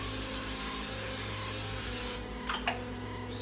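Cooking oil spray hissing steadily onto a pan before shrimp are cooked, a loud continuous spray that cuts off abruptly, followed by a couple of faint clicks and handling sounds.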